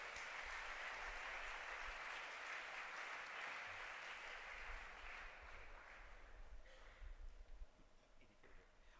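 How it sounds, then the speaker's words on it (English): An audience at a silver jubilee celebration lecture applauds in a dense, faint wash of clapping that holds steady and then thins out toward the end. "Please join with me to give a big applause and welcoming her."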